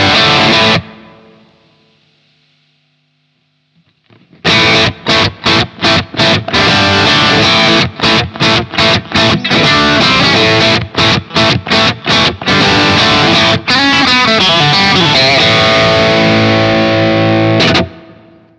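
Aggressive distorted electric guitar through a booster pedal on a single-coil bridge pickup, a single sustained note fading out, then a long loud run of choppy palm-muted chugs and chords ending in a ringing hold.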